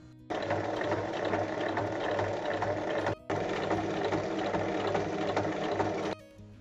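Sewing machine stitching a seam all around a pinned fabric piece, a loud close mechanical whir running in two long continuous bursts with a brief pause between them.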